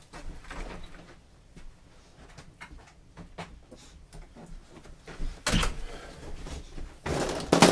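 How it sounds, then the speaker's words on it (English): A door being opened to let a dog in, quiet scattered clicks and shuffles followed by two louder thumping bangs near the end, close by and without speech. "Going to let my dog in."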